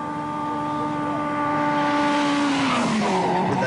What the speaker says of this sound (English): With their gravel suspension and rough road tyres, the Nissan 240 RSs look extremely twitchy at high speed on the asphalt.